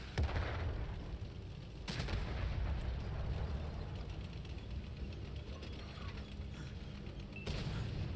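Artillery fire in the console tank game World of Tanks: a dense, continuous mechanical rumble with sharp broadband blasts near the start and near the end, and scattered distant impacts between them, with no talk.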